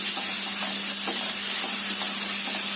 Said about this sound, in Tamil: நல்லா பொன்னிறமா வர வரைக்கும் வதக்கிட்டு அப்புறம் தக்காளி போட்டு வதக்கலாம்.